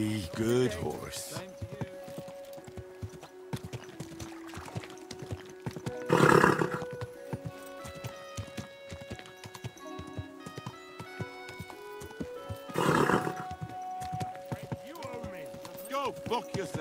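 Steady hoofbeats clip-clop through a stretch of Kingdom Come: Deliverance II gameplay, broken by two loud, rough bursts like a horse's neigh, with a voice talking over much of it.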